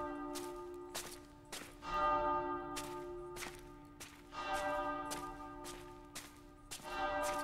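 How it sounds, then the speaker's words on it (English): Church bells ringing in the video game Ad Infinitum, a rapid series of repeated bright strikes with overlapping sustained tones, steady and fairly loud over low ambient rumble, with no talking. "How many bell chimes we getting?"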